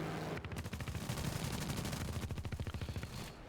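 Aircraft guns fire in the combat flight game War Thunder as long, rapid, loud bursts of automatic fire, with staccato shots packed tightly together and no talking.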